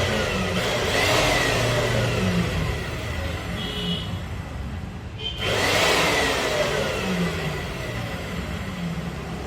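Electric cut-off machine switched on and running, a loud continuous motor whine with a brief dip partway through before it picks back up, heard close without speech.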